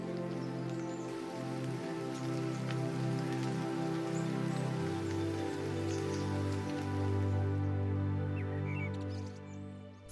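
Steady rain falls on a British garden after a long drought, a soft continuous patter throughout, with sustained tonal music layered over it.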